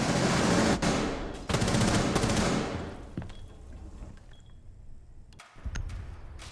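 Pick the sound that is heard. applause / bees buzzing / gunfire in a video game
gunfire in a video game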